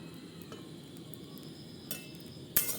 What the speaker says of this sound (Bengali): ভাজতে ভাজতে আমাদের অলরেডি চিড়েটা হয়ে গিয়েছে